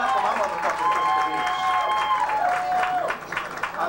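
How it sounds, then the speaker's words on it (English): A pageant audience at the 2002 Miss Metropolitan Continental/Continental Plus event claps steadily for several seconds, with a voice rising over the applause. "Y'all clap for my sister."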